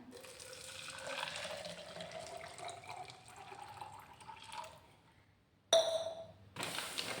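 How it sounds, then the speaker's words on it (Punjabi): Hot water pours steadily into a bottle, the pitch rising as it fills, then stops briefly before another splash of running water. "ਇਹਦੇ ਵਿੱਚ ਆਪਾਂ ਨਾ ਹੁਣ ਗਰਮ ਪਾਣੀ ਪਾਉਣਾ ਆ"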